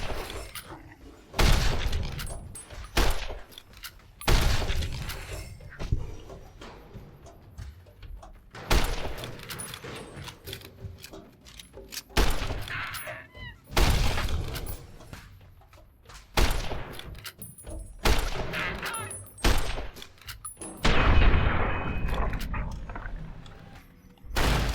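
Repeated bursts of gunfire from the video game Fallout: New Vegas crack out in irregular clusters over about twenty-five seconds, loud and close, with short gaps and impacts between volleys.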